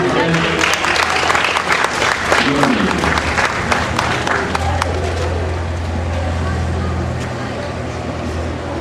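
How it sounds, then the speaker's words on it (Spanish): An audience at a talk on archaeology and paleontology applauds loudly and densely for several seconds, then the clapping thins out while a low hum and some voices remain. "Un aplauso para él."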